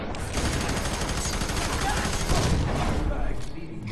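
Gunfire and a flashbang blast in the FEAR 3 video game, a dense rattling burst of shots and explosion at moderate volume that thins out toward the end, with a voice talking over it.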